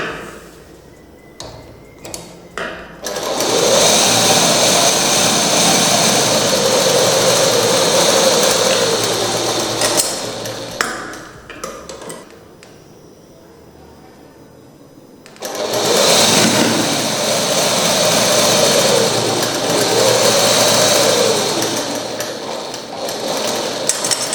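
Sewing machine stitching fabric for gathers, two long loud runs of rapid mechanical whirring and ticking, close up, separated by a quieter pause with handling noises.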